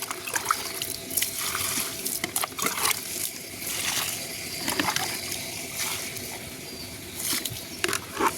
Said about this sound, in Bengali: বেশি বেশি করে জল দিয়ে দিই।